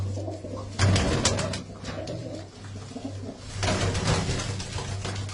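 Pigeons coo repeatedly at a home loft, including a long-beaked, black-eyed bird, with low rounded calls pulsing steadily and fairly close against a busy background of other bird sounds.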